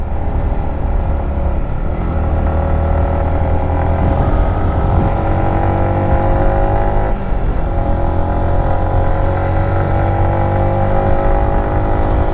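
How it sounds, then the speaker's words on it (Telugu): A motorcycle engine labors under heavy load on a climb during a long road ride toward Penukonda fort, droning loud and close with a steady, strained tone and slight pitch wavering, with wind noise and no talk. "ఇంజన్కి అయితే బాగా ప్రెషర్ పడుతుంది ఇప్పుడు"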